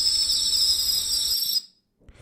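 An ambient cricket chirping sound effect, a steady high continuous trill that runs loud for over a second and then cuts off abruptly to silence.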